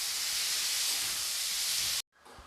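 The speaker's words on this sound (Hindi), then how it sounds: "मैंने टमाटर को लो टू मीडियम फ्लेम पे पकाया है।" Tomatoes cooking in a pan over a low to medium flame give a steady, loud hissing sizzle for about two seconds, then cut off abruptly, followed by a quieter, softer sizzle.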